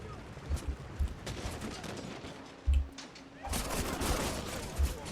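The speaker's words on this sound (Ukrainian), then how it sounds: "Дуже смішно, що вони ще розстрілюють своїх." Musket volleys crack out in Shogun 2: Total War battle play, several sharp low thumps and a longer rolling burst of massed gunfire, under a voice talking throughout.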